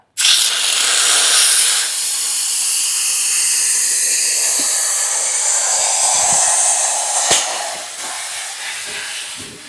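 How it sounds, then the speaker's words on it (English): Loud, steady rush of compressed air hissing out of an air compressor as it deflates in a garage, a broad continuous blast that carries on without pause and eases off only slightly toward the end. "it's important that you don't keep your compressor inflated"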